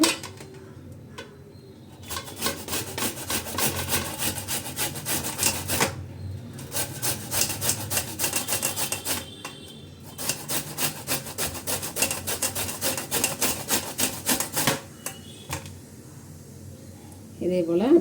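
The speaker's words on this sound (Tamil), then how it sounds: "இப்போ மாங்காயை தோல் சீவியாச்சு இப்போ இந்த சின்ன இதில் துருவிக்குவோம்" Peeled raw mango is rasped against a small hand grater in long runs of rapid, rhythmic scraping. The strokes are close and clear, with short pauses between bursts.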